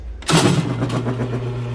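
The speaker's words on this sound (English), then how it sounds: "So this phase converter is actually fairly loud" A three-phase 240 V phase converter for an oscillating spindle sander starts up with a sudden loud hum, then settles into a steady, close electrical drone with a low tonal buzz.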